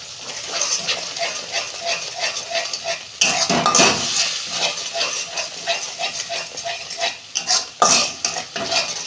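Spice masala with water, salt, chilli and turmeric powder is stirred and sautéed in a pan for a pabda fish curry. A continuous close scraping of the utensil against metal runs over a soft sizzle.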